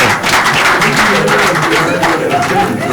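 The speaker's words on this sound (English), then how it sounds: "Let me stand up, make a clap for you." Steady, dense studio audience clapping continues throughout at a loud level on a Nigerian call-in radio and TV programme, with a broad wash of many hands.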